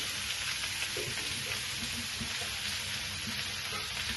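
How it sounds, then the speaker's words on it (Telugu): Bottle gourd peel and onions fry in a pan, giving a steady close sizzle with soft crackles and occasional stirring scrapes throughout. "దీంట్లో వచ్చేసి సొరకాయ పొట్టు, ఉల్లిపాయలు అన్నీ వేసేద్దాం. వేపుతుంది, ఇవన్నీ వేసేసి వేపేద్దాం."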